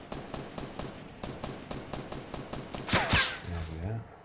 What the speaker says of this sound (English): Someone shooting at me or just shooting in general?